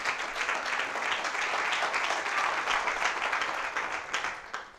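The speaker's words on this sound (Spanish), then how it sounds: "si le va a aplaudir, apláudole fuerte al Señor" Church congregation applauding loudly at a Spanish-language worship service, a dense, sustained wash of many hands clapping that runs steadily throughout.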